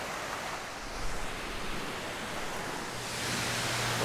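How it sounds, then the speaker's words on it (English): Waterfall pouring down into a mountain fjord, a steady broad roar of falling water heard from close by at its base, constant and unbroken throughout. "So here we are at the bottom of the waterfall."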